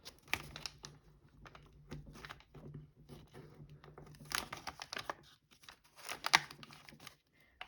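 A sheet of paper being folded and creased into an origami fighter jet, giving soft crinkles and sharp rustling taps in an uneven rhythm, close and fairly quiet, with no talking.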